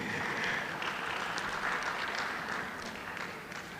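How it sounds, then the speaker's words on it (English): At an HR conference and awards morning, the audience applauds itself, a soft, steady patter of many hands in a large room that continues evenly and fades slightly toward the end. "we can have all a round of applause for ourselves for being here this morning."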